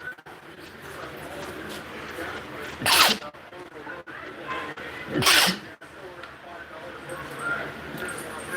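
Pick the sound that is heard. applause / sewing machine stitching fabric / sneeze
sneeze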